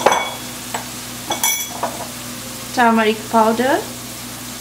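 Spices with green chili paste, chickpeas and turmeric fry and get stirred in a pan for a Bengali hilsa fish head and taro stem dish, a steady sizzle with scraping stirs, while a voice talks over it.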